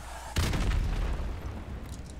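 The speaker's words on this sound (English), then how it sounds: "People shooting goddamn rockets all over the goddamn place like fucking heathens" A single rocket explosion booms in Modern Warfare Remastered gameplay, a sudden loud blast that rumbles and decays into lingering battlefield noise.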